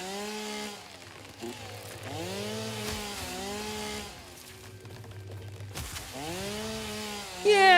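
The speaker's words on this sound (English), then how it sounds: "Yeah, chainsaw!" A chainsaw in the video game Satisfactory revs in long, steady bursts with rising and falling pitch, close and loud, dipping briefly between pulls and running alone without talk.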